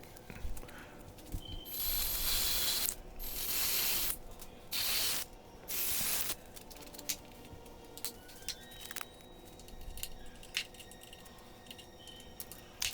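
A drill with a 3/8 bit bores dowel holes in a wooden breadboard, giving several loud rasping bursts in the first half, then quieter clicks and small handling knocks.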